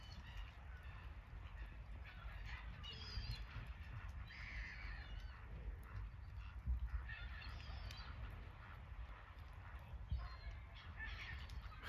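Gulls calling while being fed on the Lake Lucerne quay in winter, with repeated raucous cries coming in bursts, moderately distant, over a steady outdoor background.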